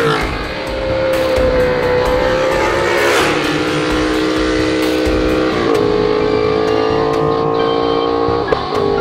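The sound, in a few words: Ducati 1199 Panigale S motorcycle engine revving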